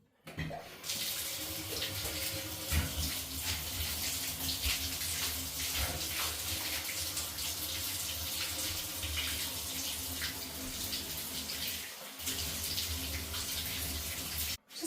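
A bathroom tap runs steadily with water, a full, continuous gush that stops briefly near the end, while an old, dirty bathroom is being cleaned.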